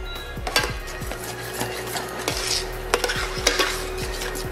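Grits being mixed in a pot to melt butter make quick rhythmic scraping and tapping strokes of a utensil against the pan, close and fairly loud, with a faint hum beneath.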